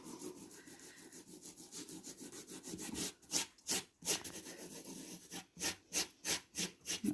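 Hand rubbing over the surface of a craft model, pressing harder along its outline; dry scraping strokes start soft and blurred, then turn into a quick, regular back-and-forth rhythm of close, crisp rasps.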